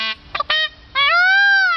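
A played recording of peacock cries: a few short, harsh honking calls followed by one long, loud, nasal wail, with nothing else audible around it.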